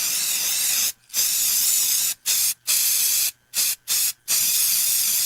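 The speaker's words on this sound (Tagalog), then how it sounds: "Humana ko i-spray direkta sa lamok, langaw ug ukok." Baygon Shield Defense insecticide aerosol sprayed against mosquitoes, flies and cockroaches: five close, loud hissing bursts of varying length, separated by brief silent pauses.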